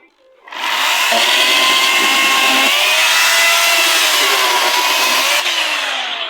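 A battery-powered electric chainsaw with a 4 Ah pack cuts firewood, starting after a brief pause into a loud, steady, close whine that holds for several seconds with slight shifts in pitch as it bites the wood.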